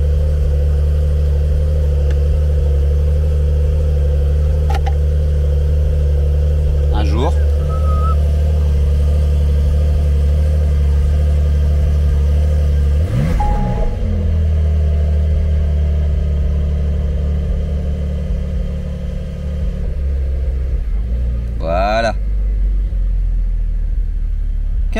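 A Porsche 992 Carrera 4 with a stage 2 exhaust sits close by at a cold-start idle, a loud, steady, deep rumble with small rev changes that settles gradually lower over the long stretch.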